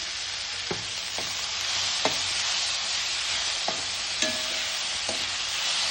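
Onions and tomatoes with salt fry steadily in a pan, a continuous close sizzle with a few sharp clinks of a utensil stirring against the metal.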